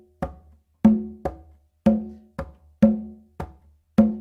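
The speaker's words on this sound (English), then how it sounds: "So you can also use palm strokes," Hand drum struck with palm, dead and open strokes, eight distinct hits in an uneven pattern, some ringing with a low tone and others short and muted, close and fairly loud with silence between.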